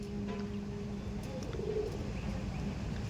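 Low, soft cooing from a male pigeon, repeated gently against a steady background hum.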